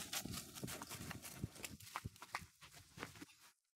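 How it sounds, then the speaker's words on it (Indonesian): Horse hooves clip-clopping at a walk in a video game, a steady run of soft, fairly quiet hoof falls that stops near the end. "Untung aja nih kuda udah jinak. Jadi gampang gua bawa balik."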